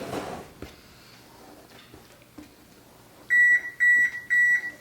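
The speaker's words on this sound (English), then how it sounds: "So there's my oven preheating" A kitchen oven beeps as it begins preheating, three loud, evenly spaced electronic beeps after a few soft clicks and knocks of handling in a quiet room.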